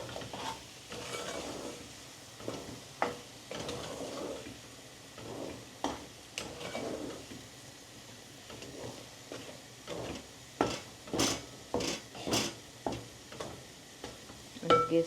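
Okra curry (bhindi nu shaak) being stirred and mixed in a pan, with soft scraping and a quiet sizzle, then a run of sharp spoon taps and clinks on the pan near the end, with no talking.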